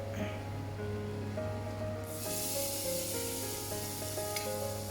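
Tempering of grated coconut frying in a pan for a Kerala pumpkin and chickpea erissery curry, a steady close sizzle that flares brighter and louder partway through, with a faint background hum and no talk.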